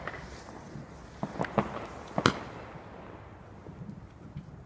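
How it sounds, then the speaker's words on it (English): Fireworks crackle and pop in the distance a couple of nights after bonfire night, a handful of sharp bangs in a loose cluster over faint outdoor wind noise. "Hearing like some fireworks around, but it's like after bonfire night."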